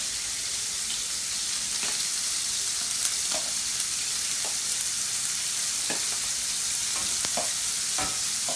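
Shrimp sear in a pan for garlic lemon shrimp linguine, giving a steady close hiss of frying with occasional light taps and scrapes of a utensil, and no talking.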